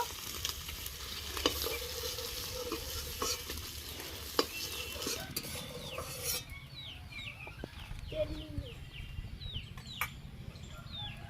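Fried eggs being lifted out of an oily frying pan while cooking eggs with cauliflower, steady sizzle with scraping and clinking of a spatula, later a softer frying hiss with chickens clucking in the background.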